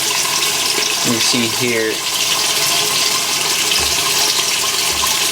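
Cold water rushes steadily into the tub of a 1989 Maytag A512 Fabric-Matic washer set to an extra large load, a constant close hiss of filling under a voice, with a few soft clunks from the machine.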